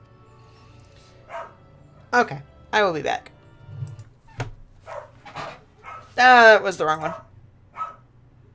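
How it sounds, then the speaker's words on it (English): Mushu the dog barks in several sharp, close bursts, some of them drawn out and whiny. A person speaks briefly between the barks. "I want to check on Mushu, because he's barking too much"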